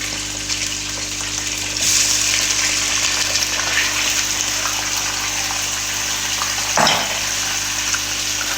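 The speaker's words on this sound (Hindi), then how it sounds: "चिकन शामिल कर देंगे और फिर चिकन को हम थोड़ा सा लाइट गोल्डन ब्राउन करेंगे जी" Chicken fries in hot oil in a pan as a loud, steady sizzle, close by, with a brief scrape of stirring partway through and no talking.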